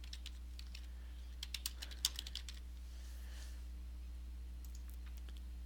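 A short burst of keystrokes on a computer keyboard, about a dozen quiet clicks close together in the middle, then a few isolated taps near the end, heard alone over a steady low electrical hum.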